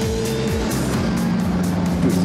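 The engine of a vintage Mercedes-Benz SSK racing car running on the move, a steady throaty drone with pulsing gear-whine tones rising and falling, close and loud, with no speech.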